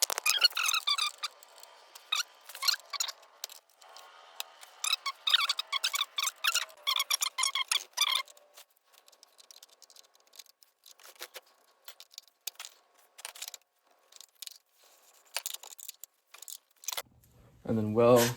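Tools work the axle and chain of a YZ80 dirt bike up close: metallic clicks, ratcheting and jangling in bursts, then sparser taps and scrapes, with a brief low thump at the end.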